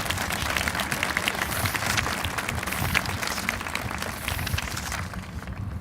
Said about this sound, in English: Let's give our four-year scholarship colleges and universities a final round of applause,